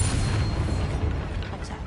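Bombarda blasting spell in Hogwarts Legacy, a deep rumbling boom that fills the whole two seconds, loud and close with a dense low-end roar and a crackling, debris-like tail.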